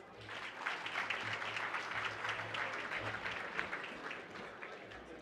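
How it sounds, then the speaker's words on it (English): Faint, steady applause from an audience at a centenary celebration rolls on for several seconds, distant and even, with no voices over it. "Please join me in giving her a round of applause."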